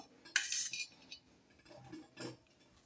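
A knife trims the crusts off two slices of bread: two short, crisp crunching cuts, the first louder and longer, the second softer, with quiet kitchen sound between and no talking.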